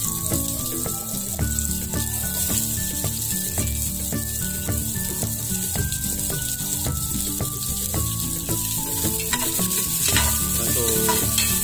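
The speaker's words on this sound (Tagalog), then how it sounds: "ilagay din natin yung ano, sibuyas. Igigisa din natin yan." Onion and garlic sautéing in a pan for cansi, a Bacolod beef dish, with a steady continuous sizzle and occasional stirring clinks throughout.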